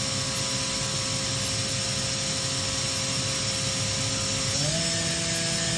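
A 2011 Makino F5 CNC machine spindle hums steadily at speed, with a dense constant whine and tonal hum that steps upward near the end as it accelerates toward 8,000 RPM, loud and close.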